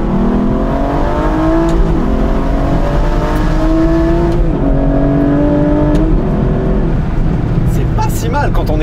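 Aston Martin V12 Vantage S pulling hard in first gear, the V12's note climbing steadily and loudly with rising harmonics before a gearchange near the end, heard from inside the car.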